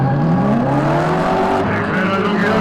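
A drift car loses angle before the last and largest corner of a drift competition at the Croatian Drift Challenge, its engine droning loud and close with rising revs and a faint tire squeal.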